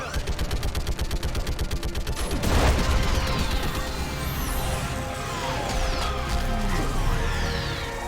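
Rapid automatic gunfire rings out in Mass Effect 3 combat, a dense stream of close shots that gives way to a heavy blast and a rumbling, swooshing roar with scattered sweeps.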